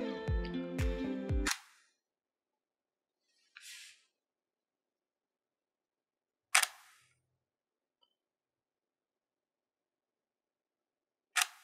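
A Nikon camera shutter firing during interval time-lapse shooting with a 5-second exposure: a cluster of quick mechanical clicks and beeps at the start, then isolated sharp shutter clicks spaced several seconds apart in near silence.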